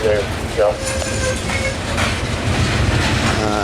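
A CSX coal freight train hauled by ES44 locomotives creeps past at close range, loud wheel clatter and rumble with squealing tones drifting through, steady and continuous.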